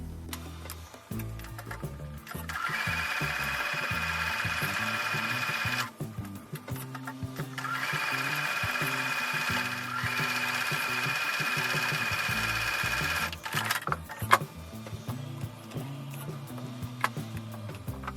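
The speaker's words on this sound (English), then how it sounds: "I'm going to take these over to the sewing machine and sew with a 1/4 inch seam." A sewing machine stitches quilt fabric with a 1/4 inch seam in two steady bursts of rapid mechanical stitching, close by, separated by a short pause and followed by quieter handling clicks.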